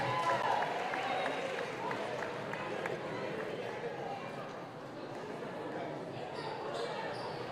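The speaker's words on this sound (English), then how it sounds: "Fans, a round of applause for your Norte Nighthawks cheer team." Fans at a boys varsity high school basketball game in a gym applaud the Norte Nighthawks cheer team, a broad, steady patter of clapping with crowd noise and squeaks from the court, fairly distant and moderate.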